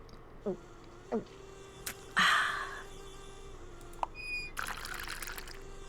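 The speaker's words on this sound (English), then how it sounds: "Waste all the water." Water poured out of a cup in the Nancy Drew game Tomb of the Lost Queen, a steady splashing stream that starts sharply, runs loud for about two seconds, then tails off amid small clicks and scattered game sounds.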